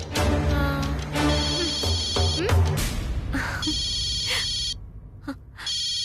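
A telephone rings in a Tamil TV serial scene, sounding as a series of bright repeated electronic trill bursts with brief gaps between them, over music or room sound.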